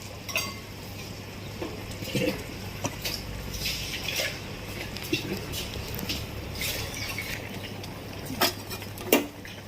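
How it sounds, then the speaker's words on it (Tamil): Coconut paste goes into a traditional stingray fish curry in a pot and is stirred, with clinking utensil taps and scrapes against the pan under a low steady hum, close by. "இப்போ குழம்புக்கு தேவையான தேங்காய் பேஸ்ட் ஊற்றிக்கலாம்"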